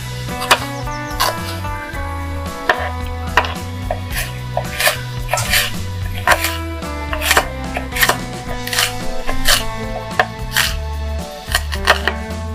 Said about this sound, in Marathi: आता हे कांदे कापून झाले